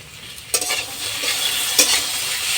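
Chili paste sizzles loudly in a pan with prawns, a steady broadband frying hiss that flares sharply as the paste hits the oil and again when it is stirred, with no one speaking.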